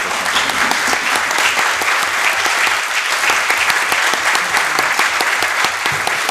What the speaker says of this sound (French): je vous propose qu'on l'applaudisse très fort et qu'on lui dise merci